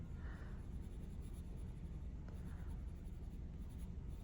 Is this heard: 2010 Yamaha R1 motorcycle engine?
no